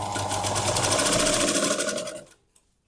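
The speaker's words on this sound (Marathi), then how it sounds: "इथून बरोबर आपल्याला पाव इंचाची शिलाई मारायची गोलाकार" Sewing machine running steadily while stitching a quarter-inch circular seam on a katori blouse, a loud continuous rapid whir for about two seconds before stopping abruptly.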